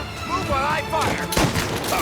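Rapid bursts of gunfire in Mafia: Definitive Edition, loud and close, running under tense shouted talk from characters.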